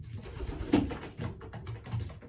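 Pigeons coo in the cold in a few soft, low, rounded calls spaced across the moment, close by, with no talking over them.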